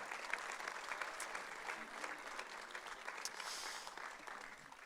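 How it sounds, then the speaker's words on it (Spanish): A church congregation at a Sunday service breaks into steady applause, a dense continuous patter of many hands clapping that fills the room for several seconds. "Cuando dicen amén a eso, damos ese aplauso."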